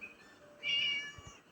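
A cat in the Scary Teacher 3D game gives a single clear, high meow over quiet background, followed by a couple of soft low thumps.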